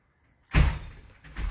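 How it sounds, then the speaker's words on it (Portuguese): A dog bangs on a door: one sudden heavy thud against the door, followed by a shorter second knock, loud and close. "Cachorro batendo na porta."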